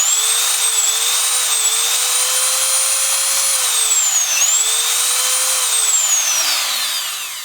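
A Dremel rotary tool whining at high speed nearby, its pitch wavering and dipping around mid-clip before spinning up again, then winding down smoothly as it is switched off at the end.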